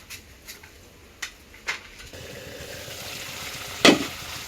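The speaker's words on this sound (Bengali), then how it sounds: "এই যে কষাইতেছে তরকারি সেদ্ধ হয়েছে" Curry being sautéed in a pan for a pabda fish dish, with intermittent clinks of stirring and then a steady close sizzle, capped by one sharp louder scrape near the end.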